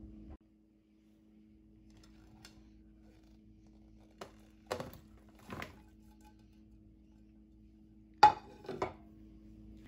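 Chopped vegetables being tipped into a bowl of cucumbers and sugar for a salad, a few sparse soft thuds and clinks of a utensil against the bowl in a quiet kitchen, no talk.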